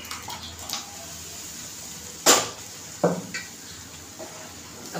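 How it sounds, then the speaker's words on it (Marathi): Cooked dal with spinach is poured into a pot, heard as a couple of short, close splashing, sizzling bursts with light clinks over a quiet kitchen background, no talk. "आता आपण हे ओतू शकतो."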